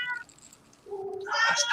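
A cat meows at close range, a short rising call followed by a louder, strained meow, with faint room noise around it.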